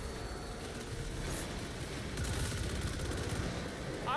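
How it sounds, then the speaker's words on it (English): An exotic SMG fires in a video game, in rapid bursts that sit faintly in a busy mix of game noise, quiet and somewhat distant, with some sound effects near the end. "I like the way the exotic SMG sounds"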